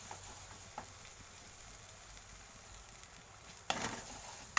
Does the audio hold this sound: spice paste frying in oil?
yes